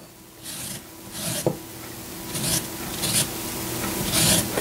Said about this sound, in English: I'm going to grate my lemon.